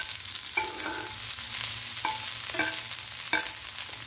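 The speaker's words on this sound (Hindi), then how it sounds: "इसको शैलो फ्राई करते हैं हम लोग।" Food shallow fries in a pan with a steady close sizzle, broken by several sharp metallic clinks and scrapes from stirring, with no voices.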